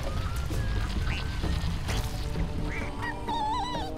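Cartoonish duck quacks from a Rayman Legends platform level, a string of short nasal honks over busy game music and effects, fairly loud and continuous with no talking.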